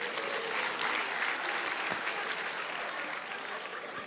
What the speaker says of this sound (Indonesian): Tepuk tangan untuk Bapak Panji Pragiwaksono.